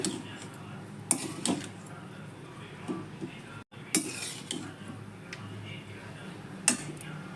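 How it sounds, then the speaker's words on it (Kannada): Cooked rice being mixed with cabbage masala in a bowl, with a spoon scraping and clinking against the bowl in scattered knocks over a quiet room tone. "ಈಗ ಇದನ್ನು ಹಾಕೋತಾ ಇದ್ದೀನಿ ಮಸಾಲೆ ಕೆಡಿಸುವಷ್ಟು ಅನ್ನ ಹಾಕ್ಕೊಂಡು ಕಲಸ್ಕೊಳ್ಳಿ"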